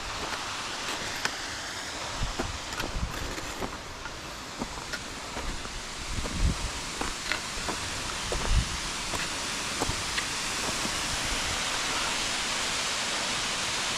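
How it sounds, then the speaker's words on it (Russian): A waterfall in the Tatra mountains of the Carpathians roars as a steady broadband rush, moderately distant and constant, with occasional close crunches and knocks of footsteps on icy ground. "Водопад чуть сверху."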